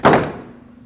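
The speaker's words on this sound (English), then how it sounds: "Now you can either grab the door panel and pull firmly, or you could use a trim tool" Door panel on a Nissan Frontier pickup being pried off its plastic retaining clips, giving one loud, close thunk-like pop that fades quickly.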